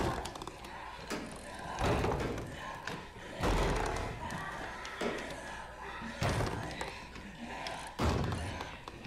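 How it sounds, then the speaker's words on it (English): Repeated heavy thumps and slams strike a door in the video game Dying Light, arriving in irregular bursts about every two seconds over a rough, noisy background of creaks and zombie growls. "when the zombie is banging on the door"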